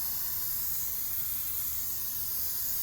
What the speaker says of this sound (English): Just going to give it a little spray with some brake parts cleaner.